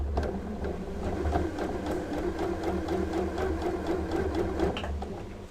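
A sewing machine chain-pieces fabric strips for a project bag, its needle running in a fast, steady mechanical whir and rattle close by for the whole stretch, with no pauses.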